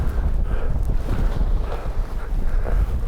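Gusting wind buffeting a microphone outdoors during a New Mexico mule deer hunt, a loud steady low roar without talk.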